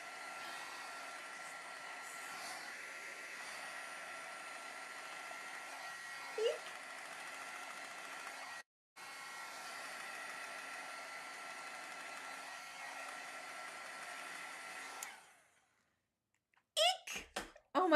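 A heat tool blows steadily for about fifteen seconds, drying watercolor on a card, with one brief cutout near the middle before it shuts off, followed by a few short clattering sounds.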